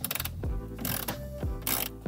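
A hand ratchet retightens 10 mm bolts on a BMW while the cabin air filter housing is reinstalled, giving close, rapid clicking pawl bursts in several short strokes with brief pauses between them.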